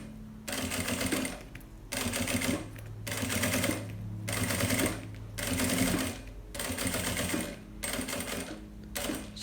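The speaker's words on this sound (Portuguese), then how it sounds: "vou passar a costura aqui, ó" A sewing machine stitching the lining of a luxury backpack, running in steady rattling bursts of about two seconds each separated by short pauses, close and clear with no talk.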